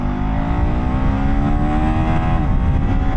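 A KTM 390 Enduro R motorcycle accelerates hard, its loud single-cylinder engine note rising steadily in pitch through a sustained, close run with continuous engine roar and no talking.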